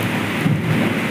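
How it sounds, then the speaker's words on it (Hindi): Steady heavy rain falls during a thunderstorm at a damaged hotel, a dense broadband hiss with a low rumble underneath, brief and without talk. "बारिश हो रहा"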